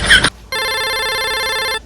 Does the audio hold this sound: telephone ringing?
yes